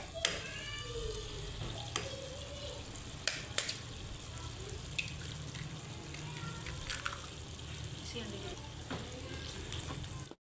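Potatoes and eggs frying in a pan, a soft continuous sizzle with occasional sharp clicks and taps of a utensil and faint movement throughout.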